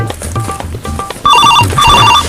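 A telephone rings with loud, repeated electronic trilling bursts that start partway in and continue, following a stretch of quieter background sounds.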